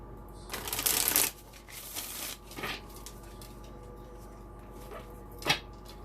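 An oracle card deck, the Divine Abundance deck, is shuffled: a brisk riffling burst, then a few shorter shuffles and soft card taps, close and quiet in a still room.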